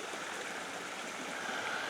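A small waterfall on a forest stream in Chichester State Forest, New South Wales, gives a steady, even rush and splash of falling water, heard from fairly close with no voices.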